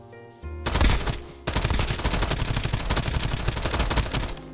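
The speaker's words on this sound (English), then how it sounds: "Here's the UMP." A UMP submachine gun fires in a video game: a short opening burst, a brief pause, then a long sustained string of rapid, loud, close shots in a fast even rhythm.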